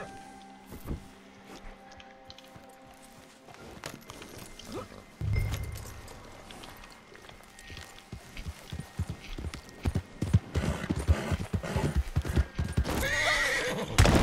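A horse in Red Dead Redemption 2 neighs and whinnies amid clip-clopping hooves, with quiet stretches early on and then louder hoofbeats and rising commotion building toward a loud, shrill whinny near the end.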